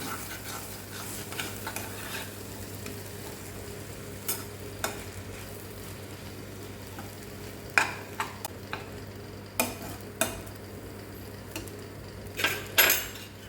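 Leftover puttu mixture being stirred in a pan, with a steady low hum underneath and scattered soft scraping and clinking strokes of a utensil against the pan, sparse and unhurried, with no one talking.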